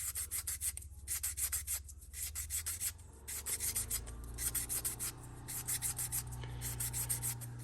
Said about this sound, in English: I will take our sandpaper again and I will just sand this down, kind of smooth that out